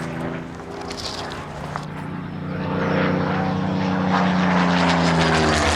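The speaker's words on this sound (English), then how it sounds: "And here it comes, the one and only Supermarine Mark II Spitfire!" A Supermarine Mark II Spitfire propeller plane flies past, its engine a loud, steady drone that swells as it comes nearer, with no speech over it.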